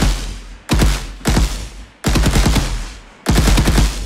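Automatic gunfire in an Unreal Engine third-person shooter, with bullet shells ejecting: four loud, close bursts of rapid shots separated by brief silences.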